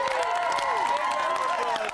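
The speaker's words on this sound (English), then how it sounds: "Big round of applause." A television studio audience on a live Saturday-morning children's show claps and cheers in a steady, dense wash, with music playing under the applause for the whole stretch.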